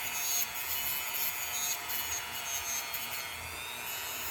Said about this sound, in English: You already know the Dremel 3000 is what we use. Let's go ahead and just smooth this out.